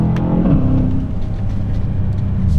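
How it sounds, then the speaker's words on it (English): An Aston Martin DBX 707 SUV downshifts on a winter drive, giving a brief engine rev blip early on before settling into a steady, close engine drone. "Downshifts are really nice. Making quite a nice sound on the gear shifts."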